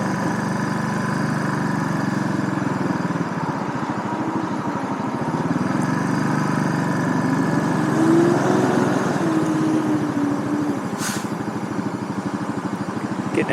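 A 2007 Suzuki S40 Boulevard single-cylinder motorcycle engine thrums steadily while riding, with a continuous low drone and wind rumble and a brief slight swell in pitch midway.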